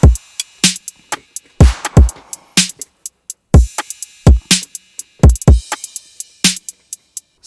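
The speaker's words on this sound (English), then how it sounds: "And the drum pattern in solo sounds like this." Solo drum pattern for a rap beat: punchy kicks and snares in a steady looping groove with crisp hi-hat ticks and washy cymbal hits, loud and dry with no voices.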